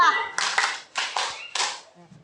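A classroom group claps together in bursts of several quick, sharp claps with brief pauses between, while a teacher's voice counts along.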